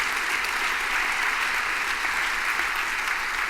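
Sustained audience applause at a book presentation and talk with Bernie Sanders, a dense steady clapping wash from a large indoor crowd with no speech over it.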